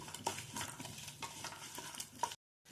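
A tempering of mustard seeds, cumin, garlic, ginger and dried chillies fries in oil, with a faint continuous sizzle and a few spoon clinks against the pan before a sudden cutoff.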